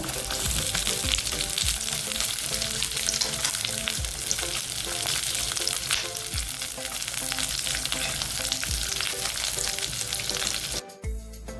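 Onion added to garlic already fried golden brown with green chilli in a hot pan for prawns chilli, a steady, loud sizzle with occasional stirring scrapes, ending in a sharp clatter, no voices.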